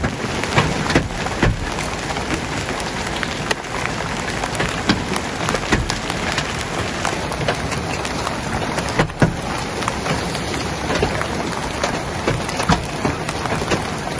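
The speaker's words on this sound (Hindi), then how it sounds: "रेगिस्तान माहौल के अंदर, और जहाँ पर कभी बारिश अक्सर ना बरसती हो, वहाँ पर ऐसा माहौल बन जाना कि तूफ़ान चल जाना, बारिशों का ज़बरदस्त आ जाना" Heavy rain pours steadily during a storm in a desert, a dense continuous hiss of drops hitting the ground with occasional louder gusts and faint distant thunder rumbling underneath, with no voices.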